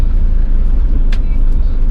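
Inside a moving car, a steady low road and engine rumble fills the cabin, with a brief soft hiss partway through.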